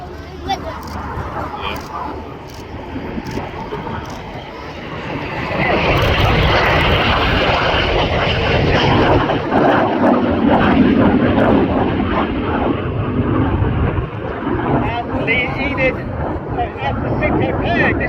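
Red Arrows jets roar loudly past at the RAF Cosford Airshow, a sustained broadband engine rush that swells and stays strong, with talk and crowd noise underneath.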